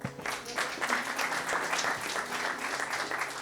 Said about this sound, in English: Thank you for your welcoming, clapping